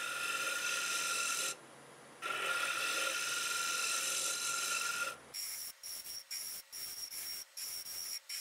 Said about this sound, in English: I'm going to do a little shear scraping here.